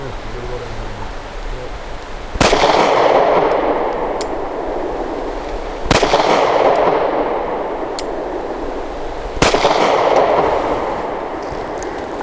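A Stoeger STR-9C 9mm pistol fires three sharp, loud shots at a target from about seven yards, spaced a few seconds apart, each crack followed by a reverberating outdoor-range echo.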